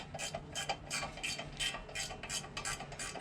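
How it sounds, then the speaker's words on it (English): A small wrench ratchets in short bursts of rapid clicking, close and fairly quiet, with brief pauses between strokes during mobile mechanic work. "Do it with a small wrench."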